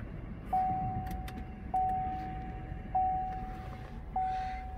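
A used 2017 Chevrolet Bolt EV being switched on inside the cabin, with a soft steady chime tone repeating four times at even intervals over a low interior hum.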